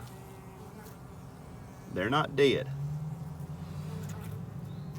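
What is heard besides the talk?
honey bees buzzing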